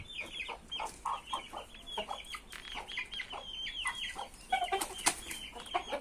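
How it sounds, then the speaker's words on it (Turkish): Chickens clucking nearby in a busy, overlapping series of short calls, with a few louder squawks toward the end. "Tavukların da sesi geliyor."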